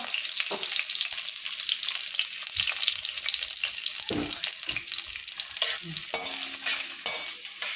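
Chicken sizzles and fries in a pan for a semi gravy while it is stirred. The frying hiss is loud and continuous, broken by scraping stirs, and there is no talk.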